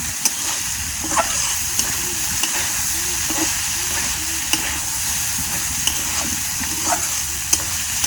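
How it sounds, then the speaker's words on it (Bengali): Nobile beans frying in a pan with a steady close sizzle, punctuated by regular sharp taps and scrapes of a spatula stirring them. "ভাজলাম নবিলে সিমা না খালি সিম মনে হয়"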